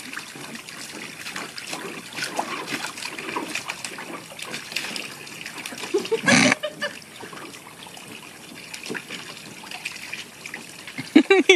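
Water trickles and splashes steadily as a puppy bites at a water stream, with a burst of louder splashing partway through and a few sharp splashes near the end.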